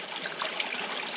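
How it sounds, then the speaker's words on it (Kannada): Clear mountain stream water trickles over rocks on a trek up Kumara Parvatha, a steady gentle babble close by with no voices. "ಶೇಷ ಪರ್ವತ ಆದಮೇಲೆ ನಮ್ಗೆ ಇನ್ನೊಂದು ವಾಟರ್ದು ಜರಿ ಸಿಗುತ್ತೆ"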